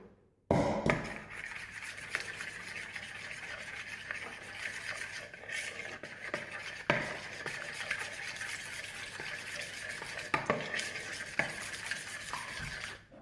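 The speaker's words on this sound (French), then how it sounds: "Mélanger." A spoon works through donut batter of melted butter and milk in a bowl, soft close scraping and swishing strokes with a few louder knocks against the side.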